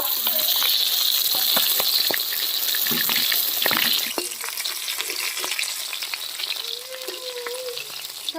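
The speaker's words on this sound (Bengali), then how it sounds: "দেখো বন্ধুরা মাছ ভাজা হয়ে গেছে আমার" Boal fish fries in a pan with a loud, steady hiss of hot oil close by, sharp pops and crackles scattered throughout, easing slightly in the second half.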